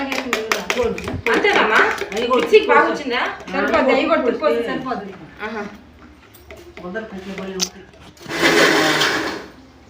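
An electric mixer grinder whirs in a short, loud burst near the end, after stretches of close conversational talk in a home kitchen.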